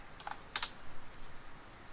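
A few quick keystrokes on a computer keyboard, close and fairly quiet, with two sharper clicks in the middle and a faint hum of room noise afterward; no one speaks.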